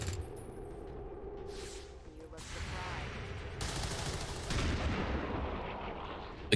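A squad opens fire in XCOM 2, a dense sustained barrage of overlapping gunshots and explosive bursts that roars steadily for several seconds, loud and continuous with no pauses.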